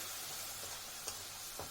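Spice paste with turmeric frying in a pan over a medium-low gas flame while a curry of koi fish with taro is cooked, giving a steady close sizzle with faint stirring scrapes and no talk.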